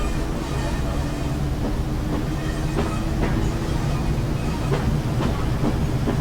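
A Class 101 diesel train in the video game Train Sim World rumbles steadily along the rails between Preston and Ormskirk, a continuous low drone and faint rhythmic clacking, heavy and close throughout.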